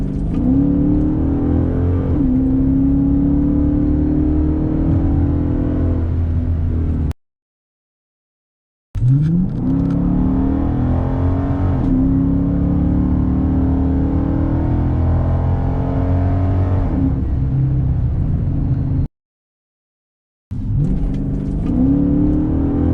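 Chrysler 300 with a 5.7L Hemi and Corsa Extreme catback exhaust in sport mode, slowing from about 35 mph: a loud, deep, rumbling engine and exhaust note rising and falling with throttle, cut by two brief silent gaps, with no talk.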